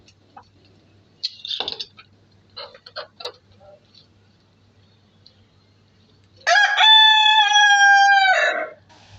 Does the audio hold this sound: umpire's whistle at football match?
no